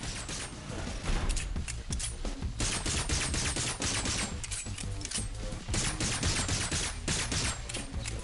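Sustained automatic gunfire in the video game Agents of Mayhem, a dense, loud, continuous barrage of rapid shots with brief gaps, mixed with mechanical clanks.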